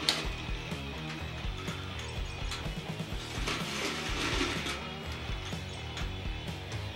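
A Sphero Ollie robot on soft carpet whirs and grinds with a ratcheting motor buzz that halts briefly and starts up again, steady and close throughout.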